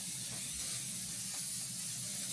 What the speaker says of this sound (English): I just do a spray all over myself.